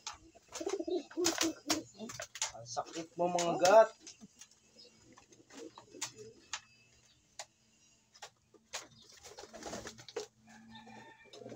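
Pigeons coo softly in the background while a person speaks, followed by quieter stretches with faint ticking and occasional bird sounds.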